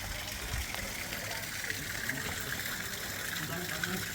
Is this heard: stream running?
yes